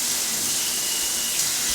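Hotel room shower in a Las Vegas King room running at strong pressure, a steady broadband hiss of water spraying close by with no talk.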